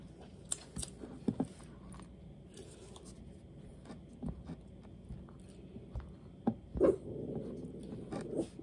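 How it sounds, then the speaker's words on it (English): A dog barking at a delivery driver outside, a few brief muffled barks at a distance over quiet kitchen sounds. "He's barking at UPS."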